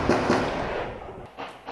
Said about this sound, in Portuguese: Era possível ouvir rajadas de metralhadora